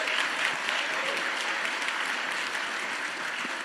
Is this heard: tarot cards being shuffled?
no